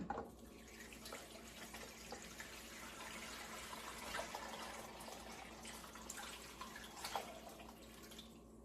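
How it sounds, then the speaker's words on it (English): Water is poured into a pan over strawberries while preparing strawberry syrup, a faint continuous splashing and trickling with a few soft drips and clinks, alone without talking. "you will add the same amount of water to your pan"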